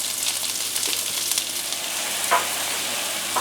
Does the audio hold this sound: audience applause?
no